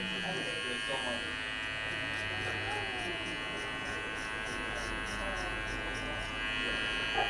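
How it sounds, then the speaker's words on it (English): A bladeless electric hair clipper buzzes steadily while trimming hair in a barbershop, a close, continuous hum with a voice speaking over it. "with this babeless clipper, it actually has notches on the side to help fasten the clipper in"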